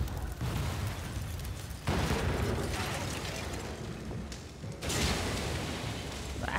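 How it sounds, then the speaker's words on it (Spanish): Explosions in the game Sniper Elite 4, heard as low rumbling blasts with distinct booming onsets around two and five seconds over a steady noisy backdrop, fairly quiet overall. "¿esos güeyes no detectan las explosiones o qué?"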